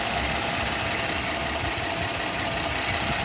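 A Porsche Cayenne 3.6 liter V6, recently repaired after an ignition coil misfire, idles steadily and close by, giving a continuous even engine hum with no talking.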